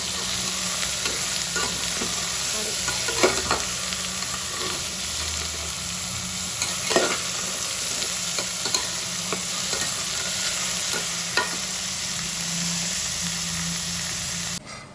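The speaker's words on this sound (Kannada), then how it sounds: "ಸೋರೆಕಾಯಿ ಹಾಕಿ ಒಂದು ಹತ್ತು ಹದಿನೈದು ನಿಮಿಷ ಫ್ರೈ ಮಾಡ್ಕೋಬೇಕು ಎಣ್ಣೆ ಒಳಗಡೆನೆ" Bottle gourd frying in oil with onion and chilli, a steady close sizzle with occasional stirring scrapes and taps of a spoon against the pan, no voices.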